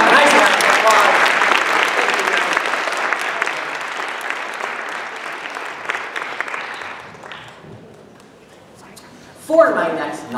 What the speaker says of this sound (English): Let's give all four of these people a nice round of applause.